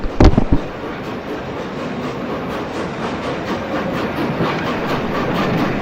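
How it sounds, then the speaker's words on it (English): A goods train hauled by a Great Western Railway tank engine passes on the far track of a station in the early morning, a steady distant rumble and clatter after a few sharp bangs at the start. "The first train of the day is a humble goods train on the far track, hauled by a Great Western Railway tank engine"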